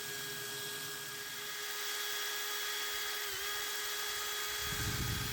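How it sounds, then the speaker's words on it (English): A clamped power drill spins sandpaper to sand a nut for a keyhole integral, producing a steady high whine that holds throughout. A rougher low grinding swells near the end as the abrasive bears down. "I'm going to put a clamp on my drill because I want to sand this nut."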